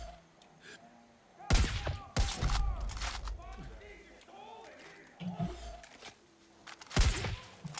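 Gunfire in the Far Cry 5 video game: several loud, sharp shots at irregular intervals, a few in quick clusters, over a busy background of game ambience with some scattered speech.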